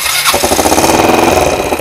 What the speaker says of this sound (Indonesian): Macam ini suaranya mesinnya.